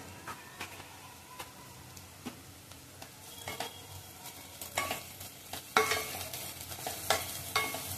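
Asafoetida dropped into hot oil in a pan while cooking fenugreek bhaji, a continuous crackling sizzle with scattered pops that grows louder and busier toward the end.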